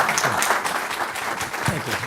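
Lecture-hall audience at an Acton Lecture Series talk applauds to welcome the speaker, steady dense clapping from a crowd, moderately loud and continuous for the whole moment with no voices over it.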